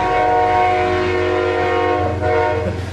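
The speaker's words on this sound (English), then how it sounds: "guess everybody heard the train go by." A train rolls past with its horn sounding loud and sustained throughout, a rich chord over rumbling wheels and low engine drone, close by and without speech.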